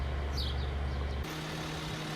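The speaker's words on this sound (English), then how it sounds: "Noisy trucks everywhere." Heavy trucks rumble past nearby with a deep, loud engine drone that shifts pitch partway through as one vehicle gives way to another, steady traffic noise without speech.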